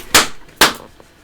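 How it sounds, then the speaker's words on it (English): Two sharp gunshot effects are played from a soundboard button, each a loud crack with a short decaying tail, about half a second apart. "I need the gunshot button."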